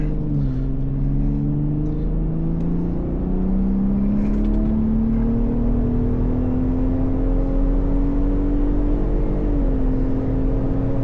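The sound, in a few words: 2024 Ford Raptor accelerating on the highway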